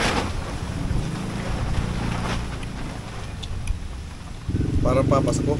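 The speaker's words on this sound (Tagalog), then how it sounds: "Ang lakas ng hangin, no?" Strong wind buffets the microphone outdoors in San Pablo City with a steady roaring rush that swells near the end, while people talk underneath.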